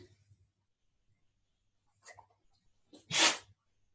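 A single sharp sneeze, close and fairly loud, comes after a couple of soft sniffs and breaths in an otherwise quiet room during a yoga flow session.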